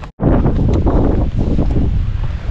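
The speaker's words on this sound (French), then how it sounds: "Il y a un peu de vent qui souffle" Wind gusts across a mountain valley in the Vallée de la Clarée near Névache, a loud, close, rumbling roar buffeting the microphone, with a brief drop-out at the start.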